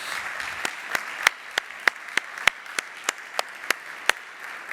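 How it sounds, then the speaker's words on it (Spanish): Applause from a conference audience, heard as sharp, separate hand claps at a steady, fairly regular pace over a soft, constant background hiss, more like a few people clapping than a full roaring crowd. "vamos a dedicarnos un aplauso"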